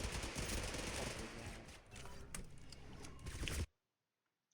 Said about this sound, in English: you hear gunshots very close to you